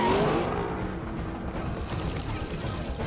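A remote-driven car accelerates hard through a city chase, engine roaring loud and continuous with a rushing wash of road and traffic noise.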